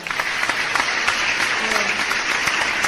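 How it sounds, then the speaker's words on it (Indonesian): Audience applause in a community health training session on stunting prevention, a steady burst of many people clapping nearby, with a few voices audible beneath it. "Beri tepuk tangan dulu untuk Ibu Alfi, kelompok 3."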